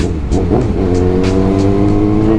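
A Kawasaki Ninja ZX-6R 636cc motorcycle engine runs loud and close with a steady, throaty drone and several quick rising revs, with no talk over it.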